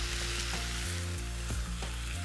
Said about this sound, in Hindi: पानी का छींटा मार सकते हैं